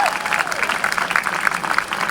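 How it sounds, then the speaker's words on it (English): Crowd applauding volunteers at a CP Canada 150 train event, a dense burst of clapping from many people with a voice faintly present at the start. "let's give them a round of applause"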